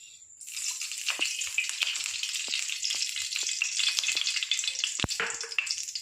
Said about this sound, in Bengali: আমি কড়াই গরম করতে বসিয়ে দিয়েছি এবার দিয়ে দেবো তেল